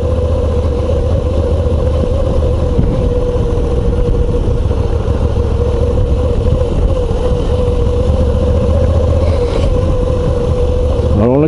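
A Moto Guzzi V85 TT motorcycle engine held steady around 2000 rpm on the road, a loud continuous low drone with a constant pitched tone, alone without speech for the whole stretch.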